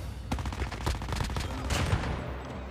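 Shotgun fire in a survival video game, with a rapid cluster of sharp blasts over a constant background din of in-game noise.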